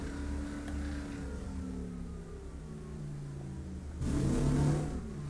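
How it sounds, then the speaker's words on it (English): A Leyland vehicle engine in the video game Steel Aces drones steadily with a slowly falling pitch, then revs up sharply near the end, loud and alone. "That sounds a bit more like the Leyland"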